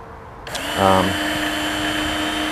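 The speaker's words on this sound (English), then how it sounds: "So this is called stropping, where you go left side and then right side." A Work Sharp belt sharpener runs steadily while a single-bevel, partially serrated tanto knife is stropped on the belt, a continuous motor whine starting abruptly and holding loud throughout, with a brief heavier burst of contact early on.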